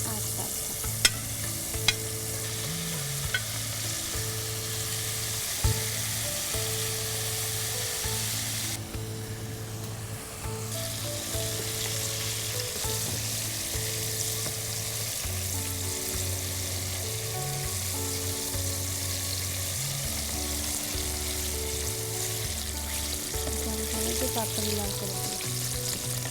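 Chicken wings in their second fry in hot oil, a loud, dense, continuous bubbling sizzle that runs without a break alongside steady background music.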